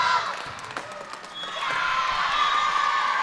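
Spectators cheering and shouting in a church gym during a high school volleyball match, Bay City against Quentin Road, a continuous broad roar of crowd noise that swells louder midway and holds steady, with whoops and children's shouts mixed in.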